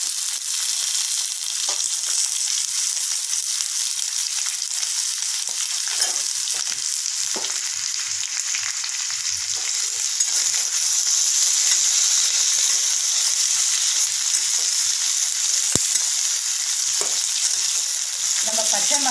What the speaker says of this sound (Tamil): இது கூட நம்ம பட்டை, லவங்கம், ஏலக்கி, சோம்பு, இது எல்லாத்தையும் சேர்த்து நம்ம ஒன்றா நல்லா வதக்கி வைக்கலாம்